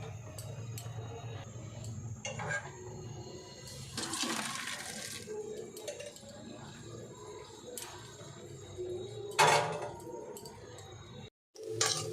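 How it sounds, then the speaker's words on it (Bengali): Water from boiled chow mein noodles pours and splashes as it drains, a rushing, gurgling sound with a louder surge midway and a brief pause near the end. "চাউমিনগুলো এখন সিদ্ধ হয়ে গেছে তো আমি এবার এটা জলটা ঝরিয়ে নিই"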